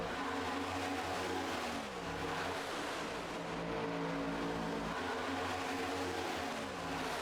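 Stock cars race at Talladega in the iRacing simulator, several engines droning together in a steady, dense roar, with pitch sweeps as cars shift and pass, heard fairly quietly throughout.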